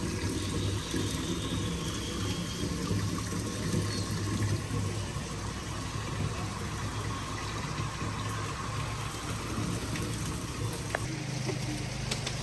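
Clean spring water flows and splashes steadily as containers are filled at a roadside source in Neelum Valley, a continuous close rushing with no talk.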